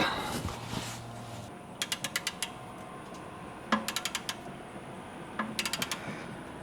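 A Harbor Freight torque wrench ratchets on a transmission drain plug during a fluid drain and fill, three quick bursts of sharp clicks separated by pauses, close and clear.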